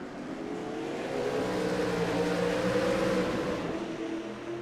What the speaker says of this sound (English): Cars currently sit on pit road, and they're gonna roll off now.